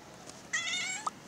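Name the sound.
cat meowing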